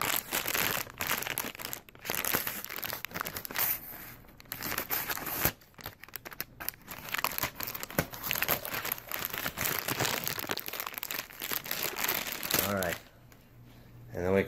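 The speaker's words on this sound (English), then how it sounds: "So let's start cutting the plastic off." Plastic wrapping cut and pulled off a new memory foam hybrid mattress, with dense, loud crinkling, ripping and rustling nearly throughout while someone talks over it.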